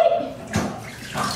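Water running and gurgling from a bathtub as the stopper is lifted and it starts draining, a steady wet wash with a brief louder splash midway.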